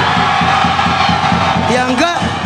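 A large crowd roars and shouts continuously at a public youth event, a loud dense wall of voices with a few rising whoops near the end.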